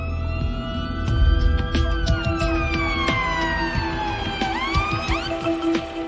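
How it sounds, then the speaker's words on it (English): Fire engine sirens wail loudly as the appliances arrive at an evacuated zone of offices and flats, their pitch sweeping up and down continuously over a rumbling traffic background, with no talking. "Fire engines are arriving."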